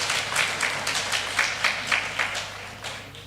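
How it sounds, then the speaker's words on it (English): Applause from an audience at a Jamaica Teachers Association event, a moderate patter of many hands clapping with a steady low hum underneath, fairly distant in the hall. "Put your hands together for her."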